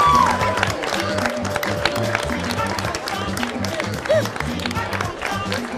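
An audience applauds as a DJ and vinyl collector is welcomed on stage, steady clapping running throughout with some cheering, and a rhythmic low beat pulsing underneath.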